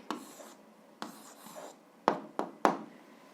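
A pen scratches out a handwritten answer to a seventh-grade algebra exercise, several short close strokes and taps in quick succession with no talking.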